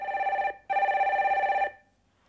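A telephone rings on a Korean call-in broadcast, two bursts of steady electronic ringing separated by a short gap, fairly clear and alone before falling silent.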